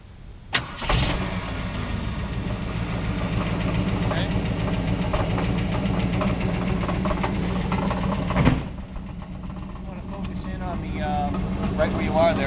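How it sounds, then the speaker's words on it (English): A 1973 Ford Mustang engine cranks and catches near the start, then settles into a steady, rumbling idle heard up close, with a sharp clunk late on and a voice speaking over part of it. "And I'll go ahead and start it up right now."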